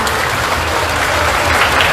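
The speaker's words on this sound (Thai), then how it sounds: "ขอเสียงปรบมือนะคะ" An audience at a 50th-anniversary grand opening celebration claps for a design team, a dense, loud burst of many hands applauding continuously.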